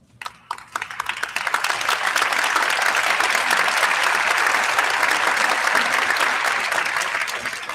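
An audience at a memorial celebration for a baseball coach breaks into sustained applause for his former players, building quickly from scattered claps into a loud, dense, steady ovation that holds throughout.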